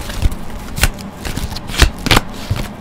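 Tarot cards are shuffled up close in several crisp, papery bursts with short pauses between them, loud and irregular.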